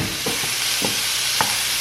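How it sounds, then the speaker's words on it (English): Chicken being broken up in a pan sizzles steadily with a few sharp scraping stirs spaced apart, close and fairly loud with no talking. "Now we're going to break it up in the pan."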